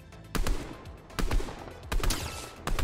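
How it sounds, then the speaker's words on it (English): Sparse, separate gunshots in an online shooter game, four sharp bursts spaced about a second apart with no talk over them. "Getting shot from all the way out here"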